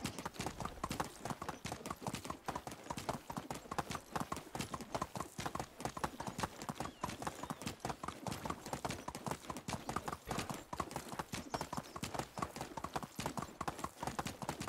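Horse galloping at full speed in the medieval life-sim game Medieval Dynasty, fast, rhythmic hoofbeats that continue steadily and evenly without a break at a low level.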